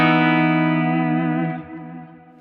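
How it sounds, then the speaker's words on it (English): Electric guitar played through a profiled Invader rock amp with a broken-up, overdriven tone; one chord rings out loud and sustained, then slowly decays alone. "you go right to the Invader is the most sort of rock amp"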